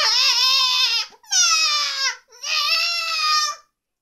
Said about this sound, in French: Pleure le bébé, apeuré.